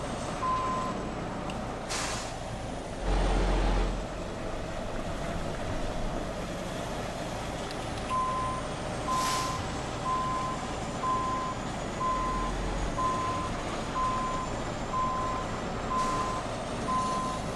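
Truck in American Truck Simulator backing up to a trailer, its reversing alarm beeping in a steady rhythmic series over a low engine rumble, with occasional air-brake hisses and whooshes.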